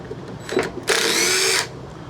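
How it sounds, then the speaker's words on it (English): Power driver whirring as screws are backed out of the carburetor on a Honda HRB216 push mower, a brief lower buzz followed by a steady, close, high drill run of under a second. "So we'll take these few screws out of here."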